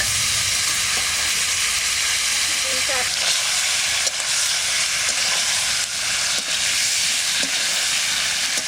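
Fish frying in hot mustard oil in a wok with bay leaf, dried chilli and cumin, giving a loud, dense, steady sizzle and hiss throughout with faint scattered pops and stirring clicks.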